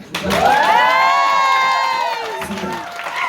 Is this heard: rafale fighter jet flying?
no